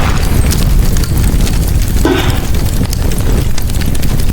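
Crumbling voxel structure of the Titanic giving way in the demolition game Teardown, a loud sustained rumble of collapsing debris with a burst of crackling breakup partway through.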